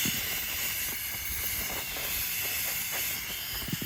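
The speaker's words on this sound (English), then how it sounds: "I'm going to prep it really well with compressed air" Compressed air blasting steadily at close range to clean a ball joint knuckle on a Ford Econoline E-350 van, a loud continuous broadband hiss with slight flutter and no talking.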